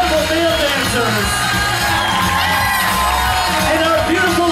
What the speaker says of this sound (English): a big round of applause for the Norwegian Sky production cast